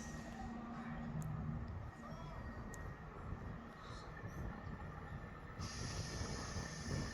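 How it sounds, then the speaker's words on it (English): Scotrail class 385 empty stock train passing through Edinburgh Gateway station, a continuous low rumble and rolling wheel noise, fairly faint and steady throughout. "Passing through now is a Scotrail on an ECS off from Edinburgh Waverley to Glasgow Queen Street."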